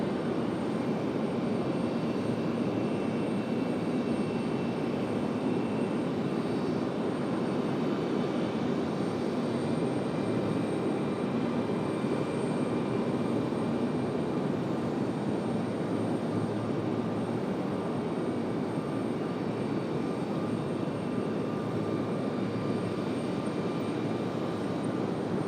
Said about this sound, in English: Aer Lingus is going to go for it here before the arrival of Delta 1518. The XLR back to Dublin.